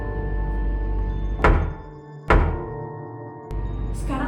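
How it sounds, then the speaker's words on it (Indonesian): Three dull, distinct knocks on a wall, each a single thump spaced about a second apart, fairly close and loud over a steady low background hum, with no talking. "ada ketukan lagi kak"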